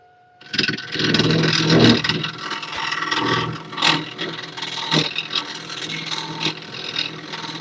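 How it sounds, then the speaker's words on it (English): A tool hollows out a cracked wooden piece spinning on a lathe, making a loud, rough scraping and rasping that starts abruptly and continues with uneven surges. "Plus, I am also hollowing out where that crack is."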